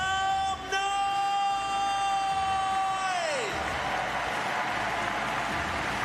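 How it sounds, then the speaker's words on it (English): A large crowd in the Grand Palais at a Paris 2024 Paralympics para taekwondo session claps and cheers loudly. A long sustained whistle or horn tone rings over the crowd and slides downward about halfway through, then the roar continues alone. "make some noise, to clap your hands, stamp your feet"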